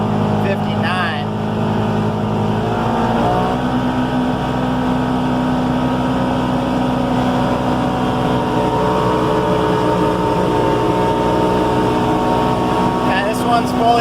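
A 2019 Polaris Ranger XP 1000 Crew side-by-side with a full cab, running at speed on a road with a steady engine and wind drone throughout, while someone talks over it.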